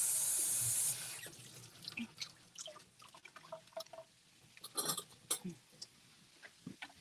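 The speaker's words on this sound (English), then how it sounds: "So I'm just gonna rinse off this kale." Kale is rinsed under a kitchen tap. A loud rush of running water lasts about a second, then gives way to scattered drips, splashes and soft handling noises nearby.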